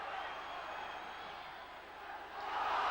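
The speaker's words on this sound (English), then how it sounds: "The huge crowd making itself heard." A huge football crowd at an Aberdeen FC match roars continuously, a dense wall of cheering and chanting that swells louder toward the end.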